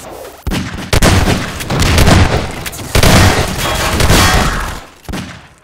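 Repeated shotgun blasts in Half-Life 2 Deathmatch, loud and booming, several shots spaced about a second apart with heavy low-end punch and brief gaps between them.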